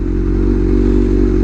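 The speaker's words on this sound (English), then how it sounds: "it's idling actually really good" A superbike engine idles close by in a steady, loud, even rumble with a low throbbing pulse and no revving.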